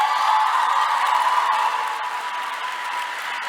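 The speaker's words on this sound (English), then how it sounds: "the second round of applause, doctors, is to you" Steady, dense applause from an audience at a medical school declaration ceremony for new doctors, sustained clapping throughout, easing slightly toward the end.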